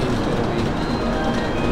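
A steady, loud rumble of a moving Japanese bullet train heard from inside a carriage, a continuous broadband roar.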